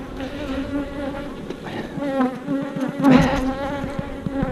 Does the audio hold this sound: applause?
no